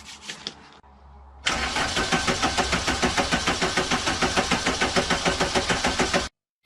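A Volkswagen car's engine starts: a few faint clicks, a short pause, then it fires abruptly into a loud, steady, evenly pulsing rhythm that lasts about five seconds before cutting off.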